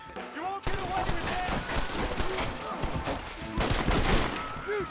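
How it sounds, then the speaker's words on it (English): Rapid volleys of gunfire crackle through a Red Dead Redemption shootout, dense bursts of shots and ricochets overlapping with shouted voices and game noise throughout. "you shoot like women!"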